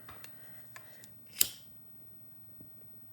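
A single crisp snip of scissors cutting bead necklace thread, one short sharp click near the middle of an otherwise quiet tabletop moment, with a couple of fainter ticks around it.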